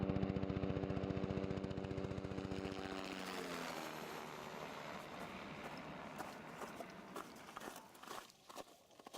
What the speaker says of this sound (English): After 8 days on the glacier, the helicopter took us back to Purple Valley